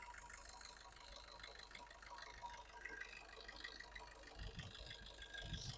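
A 2015 Maruti Swift Dzire diesel engine idles with a steady, rough mid-range rumble, with some voices faintly audible nearby.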